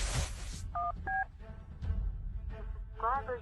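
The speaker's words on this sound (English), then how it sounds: "Call Claire" A phone dials a number, with a short series of distinct touch-tone beeps in a quiet room, followed by faint electronic call sounds.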